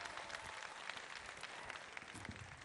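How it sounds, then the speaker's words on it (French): Audience applause and cheers after a Baoulé dance performance at a televised event in Bouaké, a brief, continuous wash of clapping, faint and distant. "Et nous réclamons vos acclamations."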